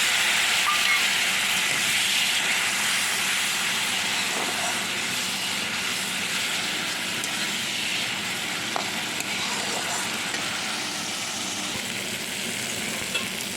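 Spice-rinsing water poured into a hot pan while cooking doi begun (eggplant in yogurt), giving a loud, continuous hissing sizzle that stays steady for many seconds with faint clinks.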